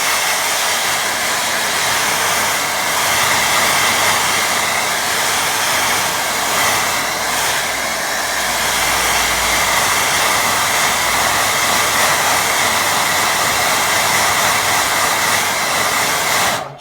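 A hair dryer runs close by in one unbroken, loud blowing roar while it dries a watercolour painting, then cuts off at the very end.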